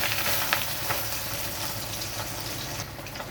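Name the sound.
pabda fish frying in mustard oil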